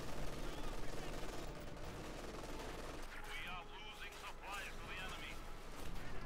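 Artillery fire from a B4 howitzer in Company of Heroes 2, with bursts and crackling battle noise spread across a busy soundscape and a commentator talking over it.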